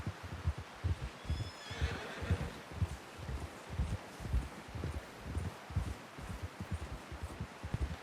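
A horse in Red Dead Redemption 2 gives a faint whinny early on while steady hoofbeats thud in a regular rhythm throughout, with rustling in the background and no speech.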